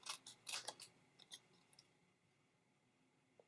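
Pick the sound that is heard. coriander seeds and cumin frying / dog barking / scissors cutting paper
scissors cutting paper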